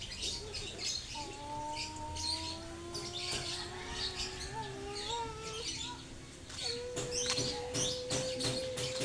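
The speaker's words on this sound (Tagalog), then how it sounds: "Lovebirds?" Pet lovebirds at home give high, thin chirps and short tweets, scattered and fairly faint against a quiet indoor background, with a brief sustained whistle-like call partway through.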